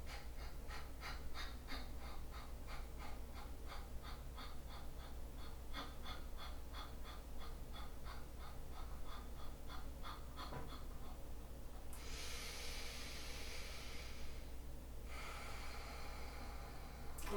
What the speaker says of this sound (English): Breathing in, letting a little off, and then pump.